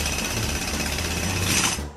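A jackhammer breaking asphalt pounds in rapid, continuous bursts, loud and close, stopping abruptly at the end.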